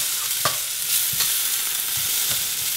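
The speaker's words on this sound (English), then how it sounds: "See that sizzle? That means they're getting, see, they're starting to get brown." Potatoes sizzle steadily as they fry in a pot, with a constant loud crackling hiss. Light stirring clicks come through every second or so, close up and with no talk.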